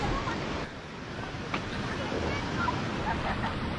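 Kuntala Waterfall sends out a constant broadband rush of falling water, steady and moderately loud, with wind buffeting the microphone and no clear speech.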